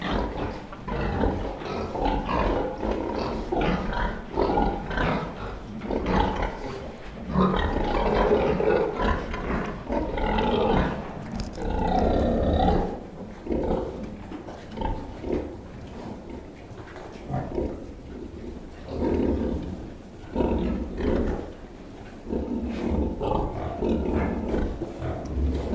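A sow and her newborn piglets on a farm grunt, squeal and snort continuously and fairly close, forming a busy, overlapping chorus of animal noises.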